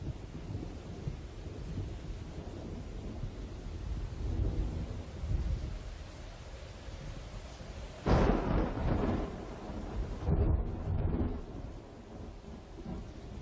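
Steady rain hisses throughout while low rolls of thunder rumble, swelling sharply partway through and then fading back.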